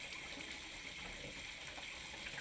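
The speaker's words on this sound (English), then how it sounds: "Turn on both hot and cold water supplies. Flush water lines for about 1 minute." Steady gush of water running from a Touch2O touch-activated bathroom faucet with both hot and cold supplies open, flushing dust and debris from the lines; a continuous, even rush with no voices.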